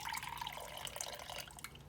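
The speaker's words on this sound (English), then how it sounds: "let's pour some of the brine pickle juice in our measuring cup" Pickle brine pours in a steady trickling stream into a measuring cup, with light splashes and drips throughout, close and fairly quiet, no voices.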